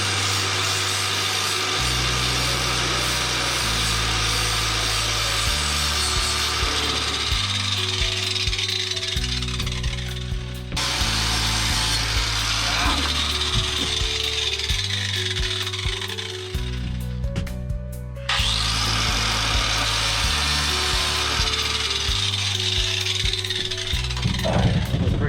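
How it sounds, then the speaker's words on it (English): An angle grinder cuts around a drilled hole in the roof of a Ram ProMaster van during a solar panel install, grinding loudly and continuously in stop-start passes with brief pauses, close and harsh throughout. "I gotta take the angle grinder to it"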